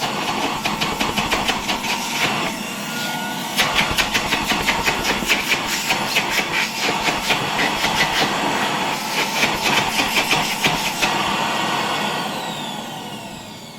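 A Czechoslovak Tiger 808 vacuum cleaner runs at full power, giving a loud, steady motor whine and rushing airflow that hold evenly with slight pulsing throughout, with no talk.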